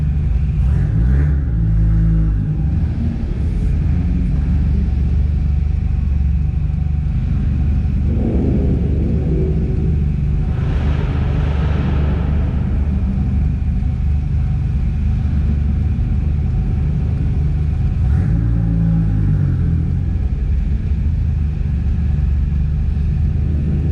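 Several car engines rumble and rev in turn at a parking area at a car event, a dense continuous roar of motors idling and accelerating close by, no talking.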